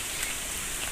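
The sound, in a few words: rain falling on concrete village road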